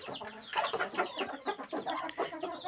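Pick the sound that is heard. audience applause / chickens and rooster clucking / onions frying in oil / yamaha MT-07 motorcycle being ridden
chickens and rooster clucking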